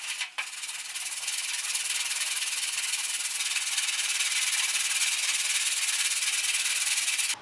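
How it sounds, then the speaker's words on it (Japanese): Steady hand sanding with 120-grit sandpaper, smoothing out dents, scratches and wavy spots on a Caterham Super Seven car part; a continuous close, even abrasive rasp after a brief pause near the start. "次は120番のペーパー、これでさっきの傷とかちょっとこうへこんでうねうねしてるところとか削って平らにしてい"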